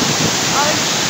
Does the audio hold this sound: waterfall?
yes